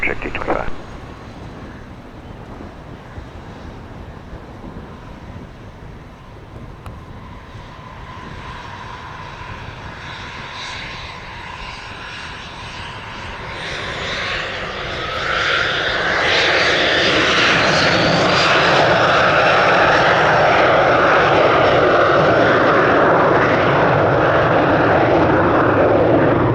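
A medevac aircraft departs runway 26 left at Spirit of St. Louis Airport, its engine idling, then swelling to a loud, sustained takeoff roar that stays close and steady to the end.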